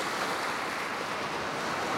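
Sea waves washing onto the shore, a steady broadband wash of surf with some wind, continuous and fairly close, no voices.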